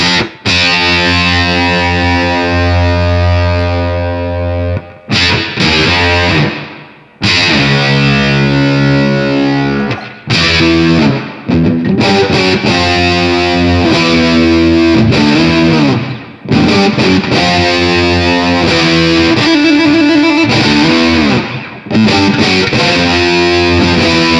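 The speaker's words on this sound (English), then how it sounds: "this has this just killer fuzz tone" Heavily fuzzed electric guitar riffing through a Greer Amps Super Hornet fuzz pedal, thick and saturated, with brief stops between phrases and sustained buzzing notes, loud and up front.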